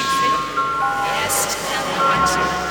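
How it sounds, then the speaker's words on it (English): A reversed voice line from the video game The 7th Guest, a short warbling, garbled vocal played backwards with wavering tones, heard close and fairly loud over a faint low hum. "It sounds to me like it's a voice line being played backwards."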